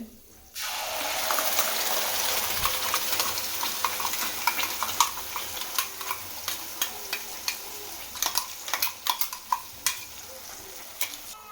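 Ground poppy seed paste goes into a pan of fried raisins and cashews for poppy seed payasam, bringing a soft sizzle and wet stirring scrapes, with sharper spoon clicks growing more frequent toward the end.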